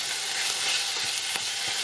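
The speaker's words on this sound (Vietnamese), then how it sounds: "Mình xào nhanh ở lửa lớn luôn." Pickled mustard greens stir-fried fast over high heat with garlic oil, sugar and soy sauce, giving a steady loud sizzle with faint scraping stirs underneath and no voices.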